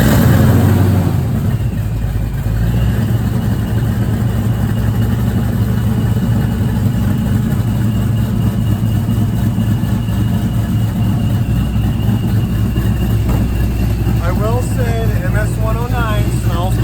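A 2005 Mustang 3V with a Paxton supercharger and open exhaust cutouts fires up and settles into a loud, rumbling, lumpy idle, close by, with someone talking over it at times.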